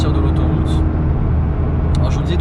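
Road noise and exhaust inside a McLaren 600LT cruising at speed, a loud steady low rumble filling the cabin without pause while someone talks over it.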